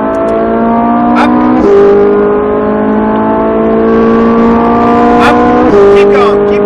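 A Ferrari 458 accelerates hard on a race track, its engine note climbing steadily in pitch and dropping twice at upshifts before rising again, loud and close throughout.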